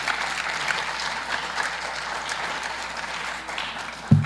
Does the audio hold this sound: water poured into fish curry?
no